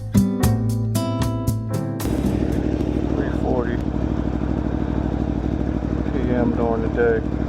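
A 2018 Aprilia Tuono V4 1100 Factory motorcycle engine runs steadily at close range, with a clattering rhythmic burst at the start and brief wind or rider noises over the steady hum.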